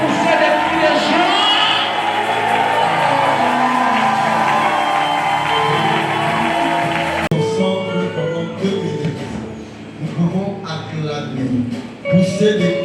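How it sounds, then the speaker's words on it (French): A church congregation shouts and cheers with joy during a revival service, a loud, sustained wash of massed voices and whoops with music beneath, thinning after a few seconds into scattered shouts and bursts. "Est-ce que quelqu'un peut pousser des cris de joie?"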